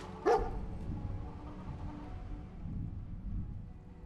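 A single short dog bark in Fallout 4, close and brief, followed by a low ambient rumble.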